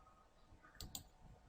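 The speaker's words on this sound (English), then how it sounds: "So let's click this point," Two quick computer mouse clicks, close and crisp, over a faint steady background hum.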